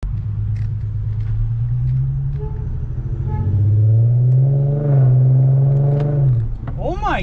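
A newly bought car's exhaust revs with a deep, droning resonator tone that rises and falls over several seconds, loud and close, with voices talking over it.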